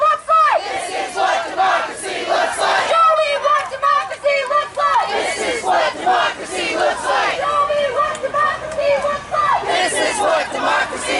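A large protest crowd shouts and chants together at a democracy rally, loud, rhythmic bursts of many voices rising and falling in repeated waves, with general crowd noise between them.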